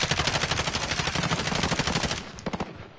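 Rapid automatic gunfire from the Warzone video game rattles in a dense, loud, continuous burst, a few separate shots trailing off at the end, with no voices over it.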